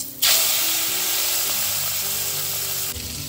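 Rohu fish pieces shallow frying in a pan give a loud, steady sizzling hiss that starts abruptly and holds throughout, close up and with no talking.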